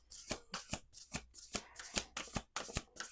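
Cards being shuffled close up, a quick series of crisp riffling bursts in a steady rhythm, about eight in a row, with no talking.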